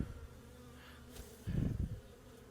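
Honey bees from a package installation buzzing around an open hive, a low steady drone close by with a louder swell of buzzing partway through, no voices.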